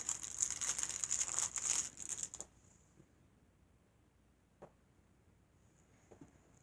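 A candy cane's plastic wrapper is cut open and crinkled for a cupcake topping. A loud, close crackle lasts about two seconds, then a few faint taps and rustles follow in near silence.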